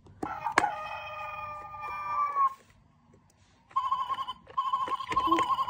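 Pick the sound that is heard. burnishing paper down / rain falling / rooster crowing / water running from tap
rooster crowing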